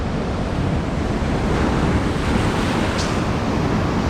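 Powerful ocean waves surge and wash against a rocky Australian shoreline in a continuous heavy roar, with gusty wind buffeting the microphone throughout and no voices.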